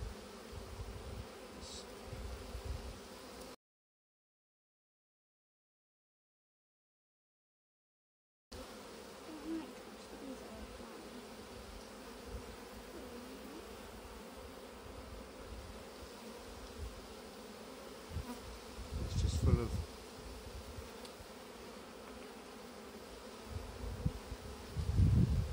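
Honeybees buzz steadily and closely around an open hive during a UK beekeeping inspection, a continuous droning hum with occasional louder passes and handling knocks, and one brief dropout.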